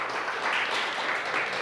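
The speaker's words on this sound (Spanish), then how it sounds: "Dale un aplauso a Dios por eso" A church congregation applauds to God during a sermon, a brief, soft wash of many hands clapping heard at a distance, steady and blended, without speech.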